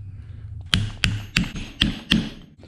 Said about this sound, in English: So I'll punch them down.